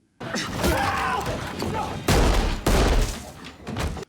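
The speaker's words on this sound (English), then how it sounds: "Waffner then attacks Chase and grabs his gun, shooting him repeatedly" A gun fires repeatedly at close range in a Nazi zombie war-horror scene from Overlord, heavy booming shots in short bursts amid struggling and vocal sounds.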